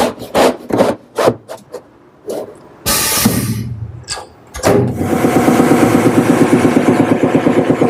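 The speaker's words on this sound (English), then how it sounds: "a wide belt sander, that's the way to get the job done" Teak boards are fed through a wide belt sander, first scattered short knocks and rubs, then a loud steady grinding drone with a fast pulsing texture that builds and holds close up.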